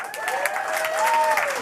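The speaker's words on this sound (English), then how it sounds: "Another round of applause." Applause from an audience at a climate action summit in London, a short burst of steady clapping with some crowd noise, fairly even in loudness throughout.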